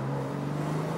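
A Porsche 911 Carrera 4S Cabriolet (991.2 facelift) accelerating in second gear, a steady low engine drone held at even loudness throughout the brief moment, with no voices.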